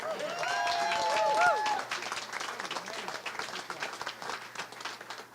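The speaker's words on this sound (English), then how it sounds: "Let's give Bishop Van another round of applause" Applause from a crowd at a conference, a dense patter of clapping that gradually thins, with a brief musical or vocal tone sounding over it early on.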